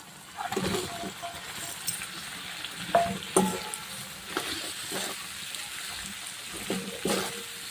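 Chopped round gourd (dhemse) frying in a pan, with a soft, steady sizzle broken by stirring scrapes and light splatter, fairly faint throughout.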